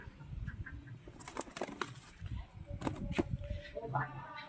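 A black Lotan pigeon flaps its wings in a few quick, close bursts of wingbeats, heard over people talking nearby.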